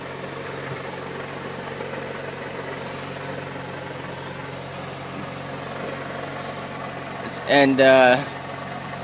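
A 1987 Pontiac Firebird fitted with a 350 crate engine in place of the factory 305 idles steadily throughout, a low continuous rumble, with a brief louder burst of talk near the end.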